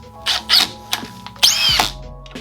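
Cordless drill driving screws into garage wheel storage racks, heard as a few short close whirs and one longer rising burst, loud and near.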